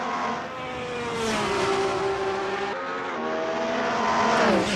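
Touring car race in a video game, cars lapping with a loud, continuous engine drone that rises and falls with shifting pitch as they accelerate and brake, close up.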